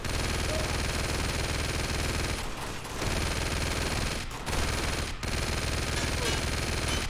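Sustained heavy automatic fire from a mounted gun turret in Uncharted 2, a loud continuous rattling stream of shots with a few brief pauses, played alone without talk.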